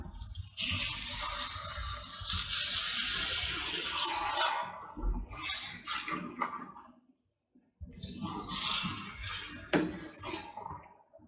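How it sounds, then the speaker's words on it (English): Splashing rush of water poured into a pot of Sri Lankan cuttlefish and potato curry, with clinks of cookware, a brief silent gap, then more pouring and rattling. "Add little bit of water so that it doesn't get burned from bottom"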